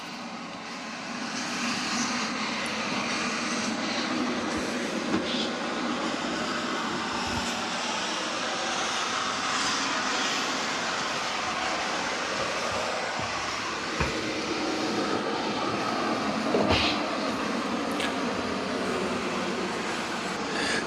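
Eufy 11S Max robot vacuum running on low suction, a steady airy whirring hum that holds evenly throughout, close by, with faint occasional bumps and no talking.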